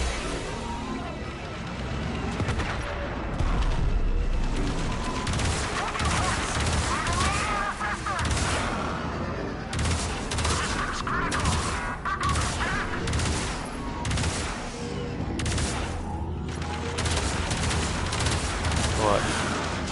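Railjack ship weapons firing in Warframe, a continuous dense stream of shots and impacts under space-battle rumble, steady and loud throughout, with intermittent voices over the action.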